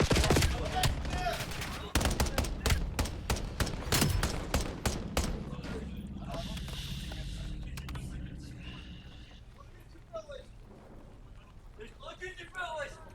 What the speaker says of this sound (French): Ça tire un peu côté Team GX.